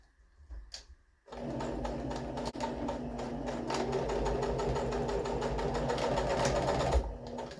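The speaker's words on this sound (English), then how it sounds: "I'm just going to reinforce this area by stitching it again" A sewing machine runs a reinforcing line of stitches on a simple pillow cover, giving a steady, close, continuous whirring drone that starts abruptly after a brief quiet moment and runs alone without pause.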